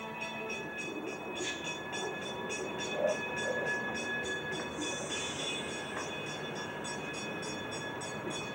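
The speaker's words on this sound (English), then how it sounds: "their train starts down to the depot" A train descending Pikes Peak rolls along with a steady rhythmic clatter of wheels on track, metallic ringing and faint squeals, moderately close and continuous.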